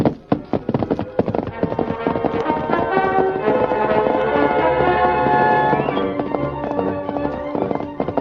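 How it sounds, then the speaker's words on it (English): Galloping hoofbeats in an old radio drama pound in a fast, close rhythm, with a dramatic orchestral music swell building beneath and over them. "Leaving Tonto on guard, the Lone Ranger set out in the darkness on his great horse, Silver."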